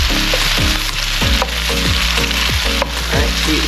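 Beef sears and sizzles in a hot pan for a beef and broccoli stir fry, a loud steady frying hiss with repeated scraping stirs and light clatter throughout, no talking.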